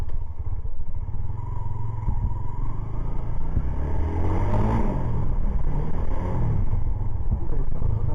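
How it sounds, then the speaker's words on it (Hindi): A Super Power Sultan 250cc motorcycle on a test ride, its engine a loud, steady rumble close by with a rising rev partway through and a faint clatter underneath, no talking. "अब करते हैं इस बाइक की टेस्ट राइड"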